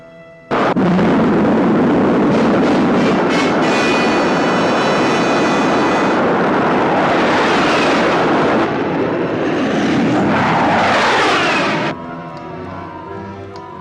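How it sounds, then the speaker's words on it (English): A rocket stage fires in a 1958 film sound effect, a sudden roaring blast that holds for about eleven seconds with a rushing, crackling wash, then cuts to a softer tail. "Rocket 1, second stage. Fire."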